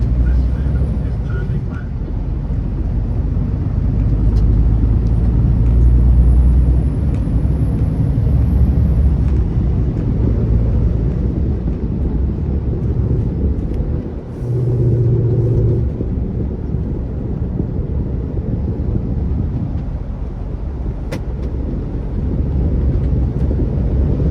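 An HGV lorry's diesel engine pulls away under throttle on a motorway approach, a heavy, loud low rumble that swells and holds steady, with a thin rising whine above it and a brief dip partway through.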